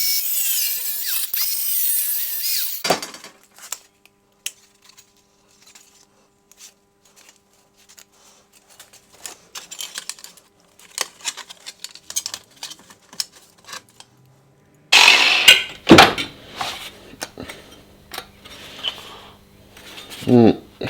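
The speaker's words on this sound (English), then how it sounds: "put some cuts on it." Metal repair panel for a BMW E30 325i being tapped and shaped with relief cuts in a home workshop, heard as scattered sharp metallic taps and clanks, with a louder burst of rapid clattering blows near the end.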